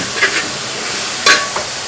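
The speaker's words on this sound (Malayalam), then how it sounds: "എണ്ണ ചൂടായി അതിനകത്ത് ഇച്ചിരി തക്കാളി ഇട്ടു, പിന്നെ നമ്മുടെ വെളുത്തുള്ളിയുടെ പേസ്റ്റ് ഇട്ടു" Tomato and garlic paste frying in hot oil with curry leaves gives a loud, steady sizzle, broken by a few brief scraping stirs.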